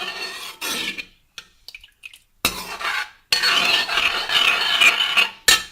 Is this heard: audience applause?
no